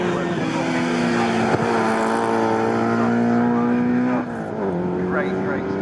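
Race car from a CSCC Mintek Classic K Series race at Snetterton, the 152 Stevenson Hales car, droning past with a steady engine note that shifts pitch as it goes by.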